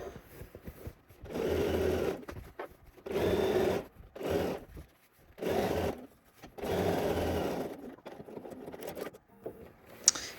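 A domestic sewing machine stitches a garment seam in bursts, its motor whirring through several runs of a few seconds each, with short pauses between them and no talk.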